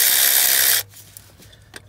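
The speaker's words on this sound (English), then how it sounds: "Luckily, I got this power tool, so it's easy" A power tool runs loudly for under a second removing bolts from a Chevy Equinox alternator, then cuts off abruptly, leaving faint clicks and quiet shop noise.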